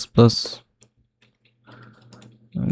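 Brief light clicking of keys on a computer keyboard sits between bursts of a person talking, faint and short.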